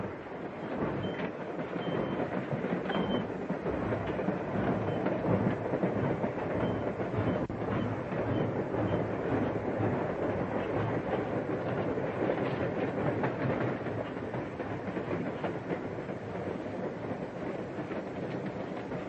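A moving passenger train from around 1940 rolls steadily along the rails. The clickety-clack of its wheels runs continuously at an even loudness, close by and with no voices over it.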